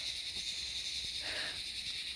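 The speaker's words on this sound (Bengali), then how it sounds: "চারদিকে ঝিঝি পোকার ডাক" Crickets chirp around a quiet, wooded hillside spot at Ichhegaon near Darjeeling, a steady high shrill drone that sits faintly and continuously over low background hiss.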